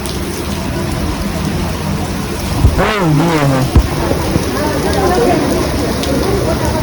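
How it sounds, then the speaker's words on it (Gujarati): Continuous rain patters in the background at the Shree Halar Tirth Aaradhana Dham as a person speaks briefly over it. "અત્યારે વરસાદ થઈ ગયો છે ચાલુ"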